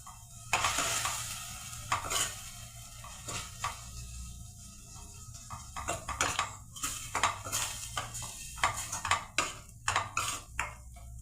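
Gram flour is roasted and stirred in a pan with garlic paste, a spoon repeatedly scraping and clinking against the metal over a soft sizzle, with no voices.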